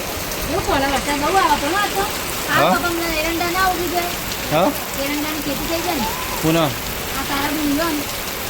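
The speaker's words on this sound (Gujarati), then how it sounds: "વરસાદ ચાલુ થઈ ગયો છે." Rain falls outdoors as a steady, even hiss throughout, while people talk over it in short spoken bursts.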